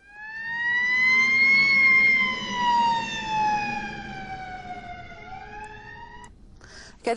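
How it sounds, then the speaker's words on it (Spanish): A wailing emergency siren sweeps slowly up and down in pitch, loud and steady for several seconds before tapering off, ending with a brief clatter. "Por ejemplo, una sirena."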